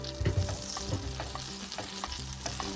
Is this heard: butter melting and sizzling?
yes